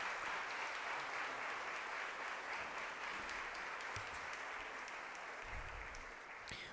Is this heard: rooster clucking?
no